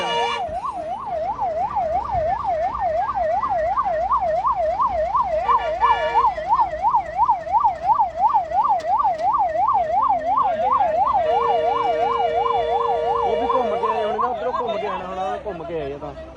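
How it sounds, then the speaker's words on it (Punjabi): A loud wailing ambulance siren rises and falls rapidly and continuous, close by at a roadside accident scene on a bypass, with people chattering in the background. "ਹੁਣ ਉਹ ਐਂਬੂਲੈਂਸ ਆਈ ਗਈ"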